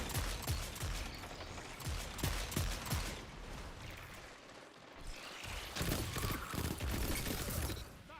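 Scout rifle fire in Destiny 2 gameplay, repeated sharp shots in bursts over a busy game mix, with a brief lull midway before more shooting.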